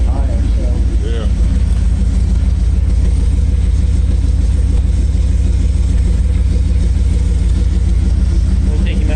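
A drag truck engine idles slightly high with a loud, steady low rumble and rapid pulsing throb, while people talk nearby.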